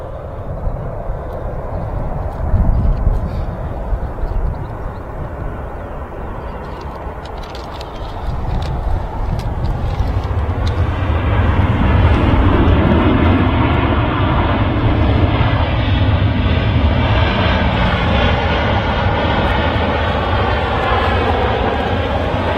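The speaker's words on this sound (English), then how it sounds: "Ryanair touching down first." A Ryanair airliner lands at Manchester Airport, its jet roar building from a distant rumble into a loud, sustained wash of engine and rolling noise as it touches down, heard from outside with no talking.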